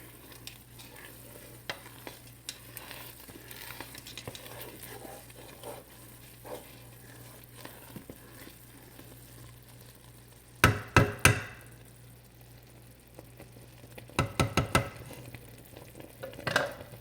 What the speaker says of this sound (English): we're going to stop stirring here in a minute